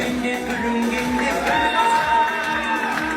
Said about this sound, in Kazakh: Қанекей, шапалақ ұрып, біздің бітіруші түлектерімізді қарсы алайық